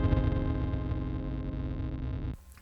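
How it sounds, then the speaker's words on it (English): A guitar played through a Sonicake Wave Crush pedal set for stereo amp distortion, a thick buzzing sustained chord ringing for over two seconds, then cut off abruptly. "Just a lot of kind of stereo amp distortion, the old hi-fi not working properly"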